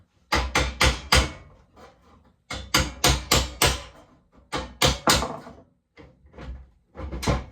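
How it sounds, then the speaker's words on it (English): Rapid bursts of loud metallic hammer strikes knocking out rivets on a 1956 John Deere 420 tractor, several blows in quick groups with short pauses between, close and sharp. "knock these rivets out."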